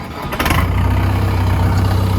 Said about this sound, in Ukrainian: можна запускати даний тракторець